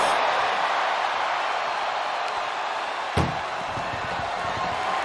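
A single heavy ambulance door slam in a wrestling video game thuds once partway through, cutting over a steady wash of game background noise.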